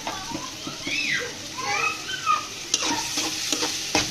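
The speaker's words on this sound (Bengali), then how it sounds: "এবার শুটকিগুলো বোনা করবো তেলের ভিতরে" Dried fish (shutki) fries in hot oil with a crackling sizzle and a few sharp spatters, while a voice chatters over it nearby.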